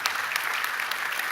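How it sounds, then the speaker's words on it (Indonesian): A church congregation claps together in steady, dense applause that holds evenly throughout, bright and sustained with no voices rising above it. "berikan tepuk tangan untuk Tuhan kita"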